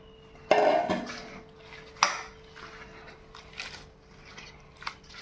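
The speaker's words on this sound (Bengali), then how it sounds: "এখন আবার জলে ধুয়ে নেব। একটা চাকনির সাহায্যে ধুয়ে নেব, যাতে খুব সহজভাবে ধুতে পারি।" Chopped banana flower being washed in water using a strainer, with a sharp clatter of the metal strainer and pot at the start, another knock, then quieter splashing and light tapping close by.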